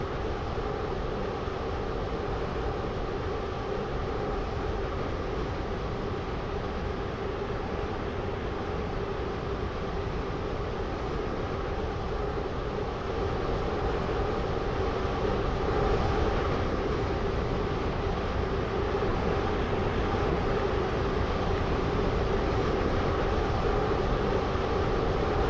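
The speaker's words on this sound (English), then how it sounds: "This train is now approaching Stepford Airport Central." A Class 360 train in the Roblox railway game Stepford County Railway runs along the line, giving a steady, continuous rumble and hum with an even drone that holds at constant loudness throughout, with no voices.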